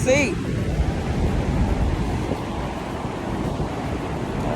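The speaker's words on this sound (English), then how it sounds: "All right, here come a wave, so let's see what's going on." Ocean surf rolling in at Myrtle Beach, South Carolina, on a cool early-March day. A steady wash of waves with gusty wind buffeting the microphone runs throughout at a moderate level.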